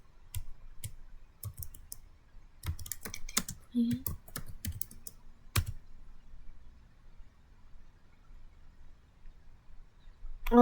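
Keys clatter on a computer keyboard while a command is entered, with bursts of quick clicks followed by a quieter stretch and a final louder tap near the end.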